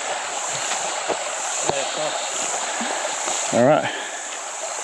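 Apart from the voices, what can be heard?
creek water flowing beside a hiking trail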